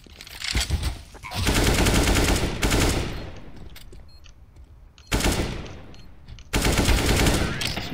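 CS:GO gunfire: several loud bursts of rapid automatic shots separated by short quieter gaps, near and punchy, with faint voices in the background.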